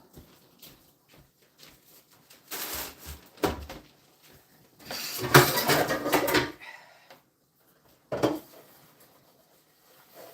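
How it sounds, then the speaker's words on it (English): Dishes clatter and a frying pan knocks against a kitchen sink in scattered bursts, with a longer scrubbing rush in the middle and quiet gaps between. "I gotta wash my frying pan, folks."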